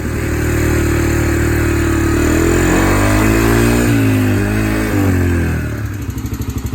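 A Yamaha TTR125 dirt bike engine runs loud and close after being revived, its uneven revving rising and falling steadily for several seconds before settling into a choppier idle with nobody speaking.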